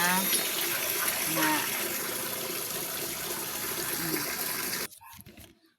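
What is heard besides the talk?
strong flow of running water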